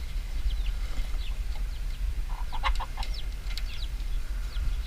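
Chickens and chicks on a farm of a few hundred birds, scattered clucks and peeps over a low rumbling background, moderately near and fairly quiet.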